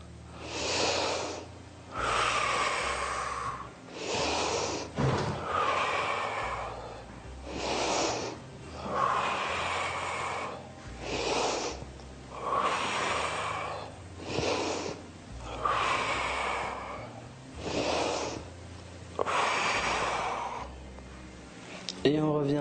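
Rhythmic, loud breaths in and out during bodyweight muscle-building exercise, about ten regular cycles of inhaling and forceful exhaling close to the microphone, with no talking.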